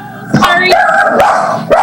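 A small dog yips and barks a few times close to the microphone during an online board meeting, the sharp barks mixed with voices in the background.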